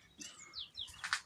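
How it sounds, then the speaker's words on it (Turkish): Faint, high bird chirps and short whistled notes come from a distance against a quiet evening garden background, a few calls spread across the moment. "Akşam akşam kuş sesleri"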